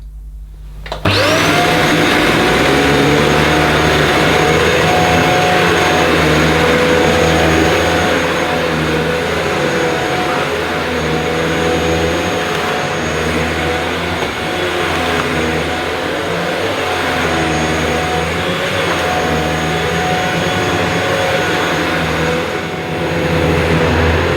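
A Shark Apex UpLight HZ400UKT corded stick vacuum cleaner with a DuoClean head starts up and runs steadily, a loud continuous motor whine and airflow roar with a high tonal note, alone and without talk.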